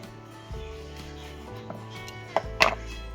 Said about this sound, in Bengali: আমি এখানে যে তিনটে টমেটো নিয়েছি একদম ধুয়ে নিয়েছি এবার এইগুলোকে হাফ হাফ করে কেটে নেব